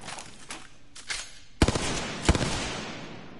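Pistol gunfire in the video game Apex Legends comes as several sharp shots, a few lighter reports at first, then two loud, punchy bangs, each trailing into a short ringing decay.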